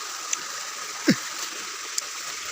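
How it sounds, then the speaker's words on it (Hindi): A mountain river in a hilly rural area rushes steadily, a continuous broad hiss of flowing water with a few small splashes and clicks, fairly close and without talk. "इधर पे नदी है"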